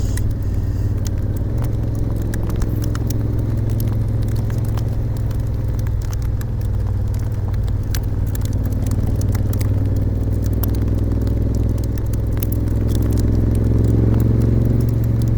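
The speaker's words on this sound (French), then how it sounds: "ça va s'arrêter la grêle" Hail falls during a passing hailstorm in France in a dense, steady clatter, a constant crackling patter over a low rumbling background that never lets up.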